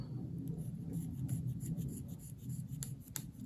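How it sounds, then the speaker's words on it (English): Steady close-up scraping of a reed's heart with a knife, a soft continuous rasping texture with faint ticks, heard alone without talk. "I am going to take away some of it, right, by scraping in the heart"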